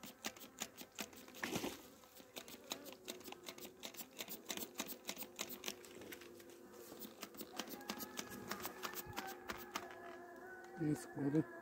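Honeybees in an opened hive in midwinter hum in a steady drone beneath frequent tapping and clicking handling noises, with a brief voice near the end.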